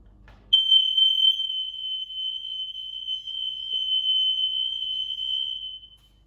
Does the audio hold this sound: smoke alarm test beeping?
yes